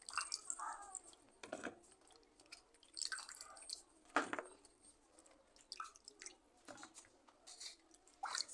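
Sour okra is rubbed and washed in water, giving soft drips, squishes and splashes at close range, fairly faint and irregular, with no talking.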